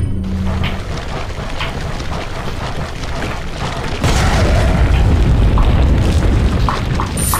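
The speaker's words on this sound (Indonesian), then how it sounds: "Ini kita bom aja lah nih kawan." A bomb blast in Resident Evil 4 gameplay: a sudden loud, rumbling boom about halfway through that lifts into a sustained dense roar, following a stretch of quieter game ambience.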